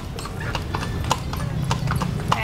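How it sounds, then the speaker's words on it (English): Horse hooves clip-clop in a steady rhythm while the animal is ridden outdoors, with a brief whinny-like sound partway through, over a constant low background rumble and no talk. "Riding a horse too."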